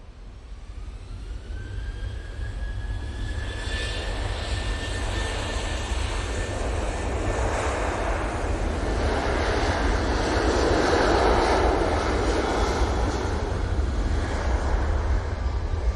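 A roaring Emirates jet airliner's engines at Manchester Airport rumble loudly and steadily, swelling toward the middle with a rising whine on top, close and continuous with no talking.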